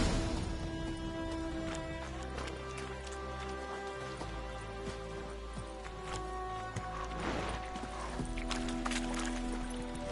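A horse named Roach galloping in The Witcher 3, its hoofbeats a rapid, steady clip-clop over soft rain and ambient game music, continuing throughout at moderate volume.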